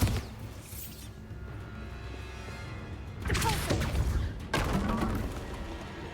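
Bombarda blast spell in Hogwarts Legacy: two fairly quiet crashing thuds land in succession over a low rumbling background.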